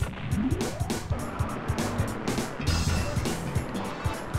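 A car engine in the arcade racing game Cruis'n USA drives the San Francisco course, a whining, pitch-shifting motor note with brief tire squeals and clicky game effects.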